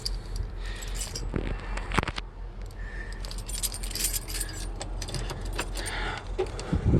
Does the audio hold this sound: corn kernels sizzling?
no